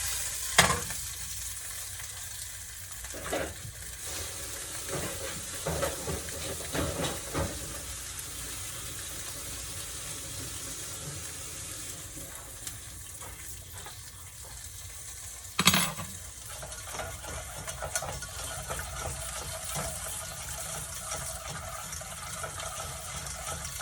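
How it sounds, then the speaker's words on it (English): Butter sauce stirred in a hot pan over shrimp, with the heat already off: a steady soft sizzle and wet scraping continues throughout, broken by a few sharper clinks of the utensil against the pan. "Just stirring it some more because I don't want it to like break."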